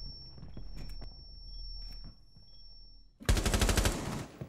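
An automatic weapon in Rainbow Six Siege opens up in a loud, rapid burst after about three seconds of quiet in-game ambience with faint footsteps.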